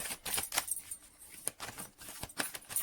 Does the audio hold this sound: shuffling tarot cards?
yes